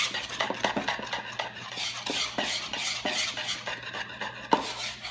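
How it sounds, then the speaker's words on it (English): Red velvet waffle batter whisked by hand in a bowl, with close, uneven scraping and clinking strokes of the metal whisk against the sides and no talking. "Now I'm going to use my whisk and actually go in on it to get it even more smoother"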